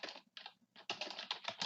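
Quick bursts of keystrokes on a computer keyboard, close and faint, with brief pauses between runs of clicking.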